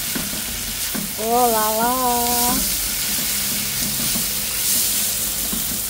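Boiled beef for cheesy beef caldereta dropped into a hot pan and stirred, a strong, steady sizzle with scraping stirs close by; a voice briefly exclaims over it.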